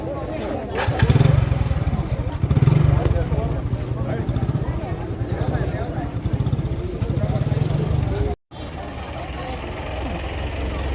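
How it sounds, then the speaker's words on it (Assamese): A motorcycle engine runs nearby, putting out a steady rumbling idle with a couple of louder revs early on, heard under a man's speech with one brief dropout. "এখন বাইকখন"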